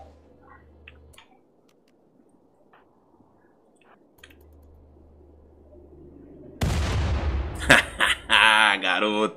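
Gunfire in the video game Rimworld: quiet game ambience at first, then a dense run of loud bursts and cracks from the weapons that fills the last few seconds.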